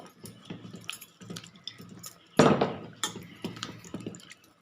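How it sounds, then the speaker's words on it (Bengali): Large eggplant pieces are rinsed by hand in water, with soft close splashing and dripping and one louder slosh partway through. "বেগুনগুলো এবার ধুয়ে নেবো"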